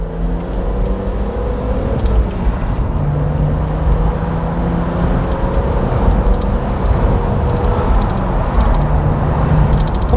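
A 1999 BMW E36 M3 Cabriolet with a six-speed manual drives along, its straight-six engine holding a steady, loud drone with tonal harmonics that shift slightly in pitch as it pulls, close and continuous throughout.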